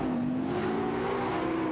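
Porsche 911 race cars, including a 992 Carrera and a 991 GT3 RS, whine in a racing video game with a sustained, steady engine drone at close range and no voices.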